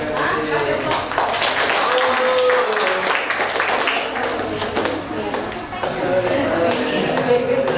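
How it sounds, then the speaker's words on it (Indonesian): Audience applause in a classroom session on active-collaborative learning, a dense wash of many hands clapping steadily throughout, fairly loud and continuous with voices mixed in. "kita simak, kasih aplaus"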